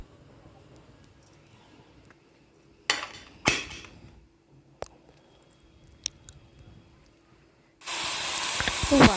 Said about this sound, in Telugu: first whistle